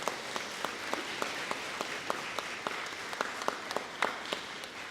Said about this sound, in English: Let's give a round of applause to Melissa.